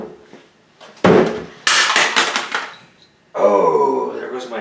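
A power drill clatters and bangs onto a hard floor with a couple of rattling impacts, followed by a man's startled exclamation.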